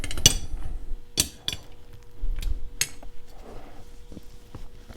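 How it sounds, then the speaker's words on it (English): Metal wrenches clink against each other as one is stacked on another to gain leverage on a shackle, giving a few sharp, close metallic knocks spaced over several seconds with quiet between them. "let me try stacking another wrench on top of it, doing it that way"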